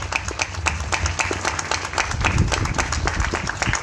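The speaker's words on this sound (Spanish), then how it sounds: "Le invito entonces para que podamos dar un fuerte aplauso a Dios por todas las oportunidades que nos ha entregado." Congregation at a First Communion Mass gives steady, fairly loud applause, a dense continuous patter of many hands through the whole stretch.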